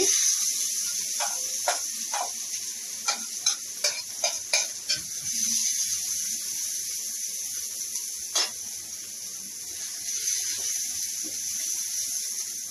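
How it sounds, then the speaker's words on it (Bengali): Onions fry in a pan for a village-style Bengali roast, a steady high sizzle and hiss running throughout, with scattered sharp spoon or spatula clicks near the start and one more around the middle. "পেঁয়াজটা ভেজে নিচ্ছি"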